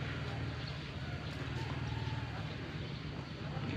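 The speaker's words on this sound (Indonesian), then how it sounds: "Terlihat beberapa kuda." Racehorses out on a Friday morning training session in Takengon, Central Aceh, hooves moving in a soft, continuous patter over a steady low rumble of background noise, with no distinct nearby voices.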